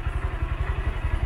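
A Honda Grom MSX125, a 125cc motorcycle with a Cub-type four-speed engine, putters at a steady idle with a quick, even chuffing pulse and no other sounds.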